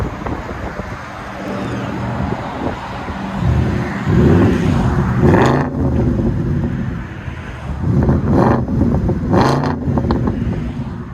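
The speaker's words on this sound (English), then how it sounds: "Amazing what a simple muffler delete would do." A 2008 Audi S5 4.2L V8 with its muffler deleted revs outside, its exhaust swelling in two loud, raspy bursts that rise and fall, with wind buffeting the microphone between them.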